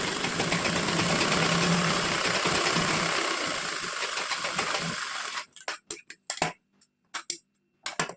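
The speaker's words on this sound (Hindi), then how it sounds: "इसके बाद हमें सीधा सीधा सिलाई लगा देना है।" A sewing machine stitches a straight seam on a blouse, running with a fast, steady mechanical whir for about five seconds. It then stops and leaves a few short clicks and knocks.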